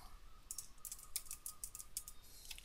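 Keys tapped on a computer keyboard while entering a menu name for a Blogspot template, a quick irregular run of faint clicks over steady low background hiss.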